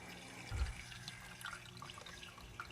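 Water in an indoor waterfall fountain humidifier trickles and flows softly and continuously, with small splashes and a gentle thud early on.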